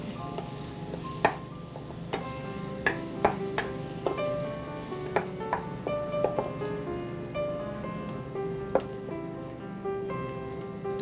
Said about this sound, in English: We'll saute this on a medium flame for 2 minutes.